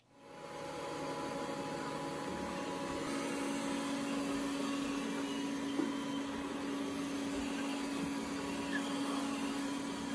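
A steady whirring motor hum with a faint high whine runs evenly throughout as an Ecovacs Deebot Ozmo 950 robot vacuum cleaner works across a rug, moderately quiet.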